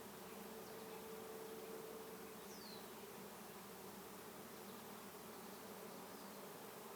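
A swarm of honey bees fills the air with a dense, continuous buzzing drone, steady and fairly soft, with no one speaking.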